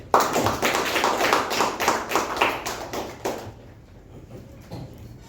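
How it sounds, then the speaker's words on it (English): Round of applause at a club meeting for an evaluation, a few seconds of brisk, close handclapping from a small group that fades out and leaves near silence. "Let's give a huge round of applause for the great evaluation."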